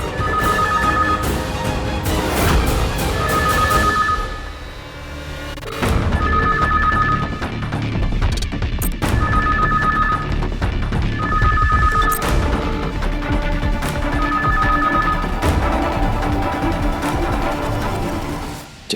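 A telephone rings repeatedly in a domestic setting, its electronic two-tone bursts recurring in a steady pattern over a loud dramatic music score with crashing hits, no voices present.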